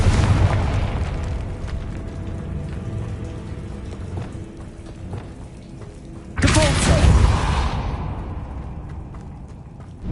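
The Confringo fire spell explodes in the video game Hogwarts Legacy. A low rumbling wash of sound gives way to a sudden loud burst that crackles and then decays over a couple of seconds.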